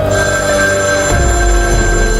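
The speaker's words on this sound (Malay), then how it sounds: "mustahil ada orang yang menelpon pada pukul 9 malam" An old-style telephone bell rings steadily and loudly on its own, used as a sound effect in a ghost story set in an empty office at night.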